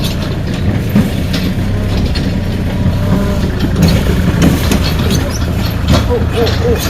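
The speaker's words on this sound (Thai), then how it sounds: "ตอนนี้เรากำลังนั่งรถไถลากเพื่อไปต่อจุดที่ 2" A farm tractor pulling a passenger trailer gives a steady low engine rumble with mechanical rattling throughout, loud and close, with faint voices mixed into the noise.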